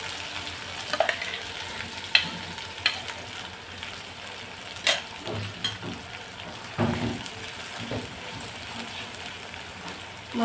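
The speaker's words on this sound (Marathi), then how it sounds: "मसाला आपल्याला परतून घ्यायचा आहे" Ground masala sautéing in oil in a pan for a spiced jackfruit curry, a steady broad sizzle with scattered spatula scrapes and clinks, close and fairly loud, no voices.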